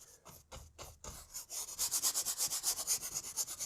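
A brush scrubs liquid white oil paint into a matte canvas, starting with a few separate strokes and then settling into a steady back-and-forth rhythm of close, rasping rubs.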